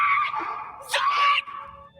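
Men scream in terror on a spooky night outing, a shrill, loud outburst of overlapping high-pitched yells that swells in the middle and then fades.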